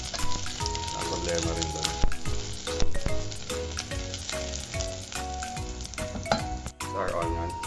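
Onion fries with ginger and garlic in a hot pan, giving a dense, continuous sizzle with stirring scrapes, close and loud, while a person speaks briefly over it.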